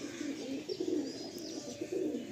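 Two male Giribaj pigeons in a loft giving soft, low repeated coos in rolling phrases, fairly quiet and close, with faint chirps in the background.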